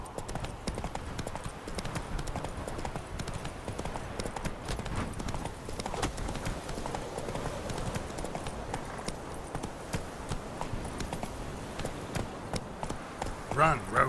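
Roach, the horse in The Witcher 3, gallops in a steady rapid clip-clop of hooves, moderately close, with speech heard over the hoofbeats.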